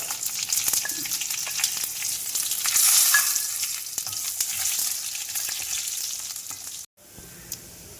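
Mustard seeds and dried red chilies sizzling hard in hot oil for a rasam tempering, a loud close hissing crackle with faint stirring that swells, then cuts off abruptly near the end.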